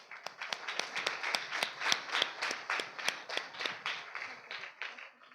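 A small parish audience at a Sacred Heart church anniversary gathering claps in a steady, even rhythm of distinct hand claps lasting several seconds, moderately near with no talking.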